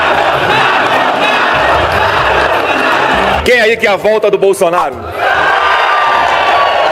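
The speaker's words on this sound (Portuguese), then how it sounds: "seu concorrente direto, que foi ovacionado pela plateia" A crowd at a mayors' march roars and cheers in an ovation for Bolsonaro, a loud dense wall of voices, briefly broken by someone shouting a question to the audience before the cheering swells again.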